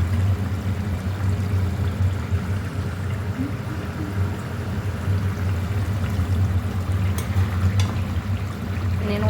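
Water pours steadily into a cooking pot on a large stove, a continuous gurgling stream with a low rumble running throughout, fairly close and even in level.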